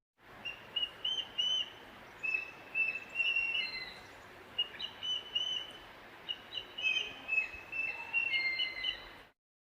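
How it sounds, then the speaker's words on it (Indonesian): Eagle calls ring out as a series of high, thin whistling chirps in irregular bursts over a soft background hiss, fairly faint and with no voices, lasting around nine seconds. "elang."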